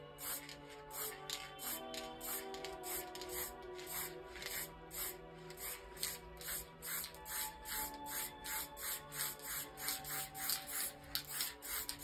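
Spray paint is misted lightly onto glass in a rapid series of short, soft hissing bursts that repeat in an uneven rhythm for about twelve seconds, close and quiet over a faint tonal hum.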